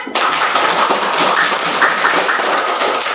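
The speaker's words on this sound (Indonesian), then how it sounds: "Tepuk tangan lagi lebih keras." Schoolchildren in a classroom clap harder on request, a busy, continuous wash of many hands slapping together, loud and near, with no gaps.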